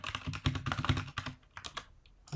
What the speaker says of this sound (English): I'm gonna type, hi, my name is David